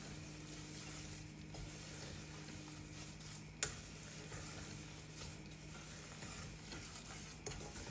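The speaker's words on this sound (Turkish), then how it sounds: "İrmiklerim sürekli olarak karıştırdığım için dibi hiçbir şekilde tutmadı." Semolina roasting in oil in a pan is stirred steadily, giving a soft continuous scraping and faint sizzle at low level, with one sharp clack of the spoon near the middle and another near the end.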